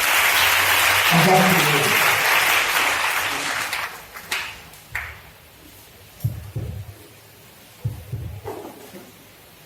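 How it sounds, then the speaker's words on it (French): A church congregation applauds and cheers the Lord in a loud, dense burst of clapping lasting about four seconds, which fades out as a preacher resumes speaking in French with short pauses. "On va acclamer le Seigneur."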